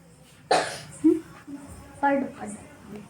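A person coughs a few times in short, separate bursts, close and fairly loud, with brief vocal sounds between the coughs.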